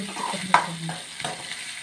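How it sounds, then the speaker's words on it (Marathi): Onion being stirred and fried in a hot pan, a close, steady sizzle broken by a couple of sharp scraping stirs of the spoon against the pan. "जरा कांदा छान लाल होईपर्यंत फिरवत राहायचं."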